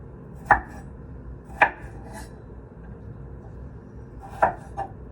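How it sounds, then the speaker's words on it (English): A knife chops through potatoes being cut into French fry sticks, giving three sharp, close thuds on the board with a short pause between the first two and a longer gap before the last pair. "how to cut potatoes to be looking exactly like French fries"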